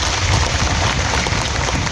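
A crowd claps at a civic felicitation event for a newly elected municipal council president in Jat, producing a dense, continuous wash of applause at steady volume with no pauses.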